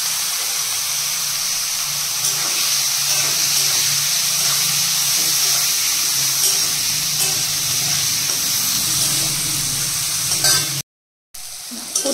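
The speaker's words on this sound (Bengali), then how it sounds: "এবার উচ্ছে কুমড়ো আলু 3টে ভেজে নিই।" Bitter gourd, pumpkin and potato pieces fry in a pan with a steady, close, loud sizzle and hiss, occasional stirring, and a brief cut to silence near the end.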